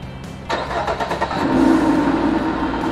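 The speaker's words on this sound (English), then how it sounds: "I will get my keys and do a startup and see if there's anything that leaks out." A 2016 Dodge Dart SXT cranks briefly and fires up after an oil change, then settles into a steady close idle, loud and alone without talk.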